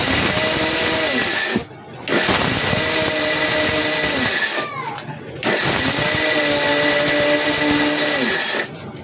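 Electric grinder running dry, whole spice masala for a dahi bhalla mix, three long loud whirring runs with brief pauses between them where the motor is stopped and restarted, uncovered jar.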